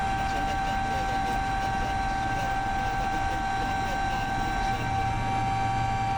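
A helicopter taxis on the ground in the Isles of Scilly, heard from inside the cabin as a constant loud engine and rotor roar with a steady high whine over it.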